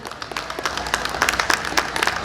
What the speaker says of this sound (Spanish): A la señora Obdulia Miguel, fuerte el aplauso para ella.